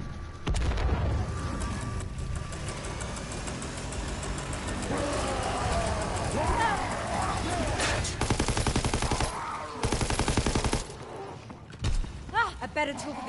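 Pack-a-punched sniper rifle shots in Call of Duty: WWII Zombies, loud sharp gunfire cracks mixed with other rapid weapon fire and game effects, with a voice talking over much of it.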